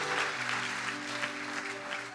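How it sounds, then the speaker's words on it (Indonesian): Church congregation applauding during a sermon in a hall, a full, steady clatter of many hands clapping at once that carries a sustained musical tone underneath. "Kasih tepuk tangan yang paling meriah teman-teman."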